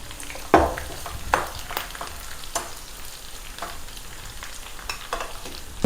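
Spices for a rasam tempering sizzle in hot oil, a low steady crackle broken by several sharp clinks of a ladle stirring the pan, with no talking.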